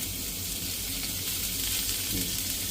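Food frying in hot oil while being sautéed in a home kitchen gives off a steady, dense sizzle and crackle that holds at an even level for the whole stretch, with no talking over it.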